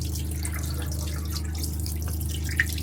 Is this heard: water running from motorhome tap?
yes